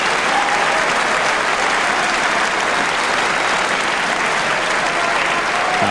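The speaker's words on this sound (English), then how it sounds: "And the applause from the crowd says it all." Loud, sustained applause from a snooker crowd at the 1997 Masters, rewarding Steve Davis's 130 break; dense, even clapping that fills the hall and carries on without a break.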